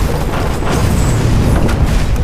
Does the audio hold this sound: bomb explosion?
yes